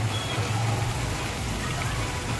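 Heavy rain pours during a night thunderstorm in Junagadh, Gujarat, a loud, continuous broadband roar of rain on surfaces with no breaks, close and steady throughout.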